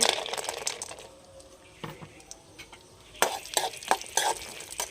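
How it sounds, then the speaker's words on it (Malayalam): Soft stirring and scraping of cashews and raisins frying in ghee in a pan with a light sizzle, sharper clinks and scrapes in the second half; no voices. "മുന്തിരിങ്ങയും കശുവണ്ടി പരിപ്പൊക്കെ ഇട്ട് കൊടുക്കാവേ ഈ നെയ്യിൽ"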